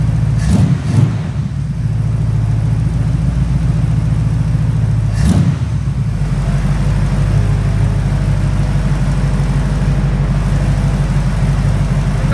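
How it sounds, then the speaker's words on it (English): A GM vehicle's engine runs loud and close from idle, its steady rumble rising slightly as it is brought up slowly, with a couple of brief knocks or clicks early on. "We're going to idle it back up slowly and you're going to see the light go off."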